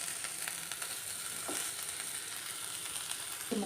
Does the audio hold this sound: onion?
yes